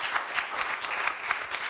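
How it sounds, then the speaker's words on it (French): Modest applause from a small audience at an intimate concert, a soft, fairly far-off patter of clapping hands with a few sharper claps standing out. "Merci, on peut l'applaudir."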